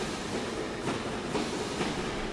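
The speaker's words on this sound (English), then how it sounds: "I hear trains but cannot see them. There it is. Gosh, that's noisy." A Class 101 diesel multiple unit runs on rails somewhere on the Weardale and Teesdale network, giving a steady, noisy rumble with faint rhythmic clicks of wheels passing rail joints. The train is fairly close and no one talks over it.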